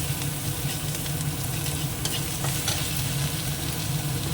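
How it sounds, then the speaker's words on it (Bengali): Onion, ginger and garlic fry in a pan, giving a dense, steady, close sizzle with light stirring throughout and no voices. "এটা একটু আগে ভেজে ভেজে ভেজে নিই তারপর কাঁচার গন্ধটা চলে যাবে"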